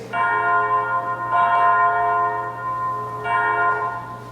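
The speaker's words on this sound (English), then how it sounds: "The bell invites me." Tolling bell used as a stage sound effect in a school drama club's production of Macbeth, three loud, ringing strokes about two seconds apart, each sustaining and fading over a low steady hum.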